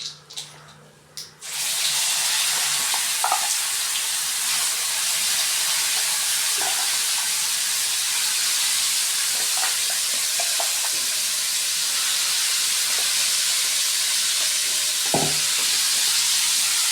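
Urad dal frying in hot oil in a pan during tempering for pudina chutney, a steady close crackling sizzle that swells in after a brief quiet start and runs continuously, with occasional light pops and clinks.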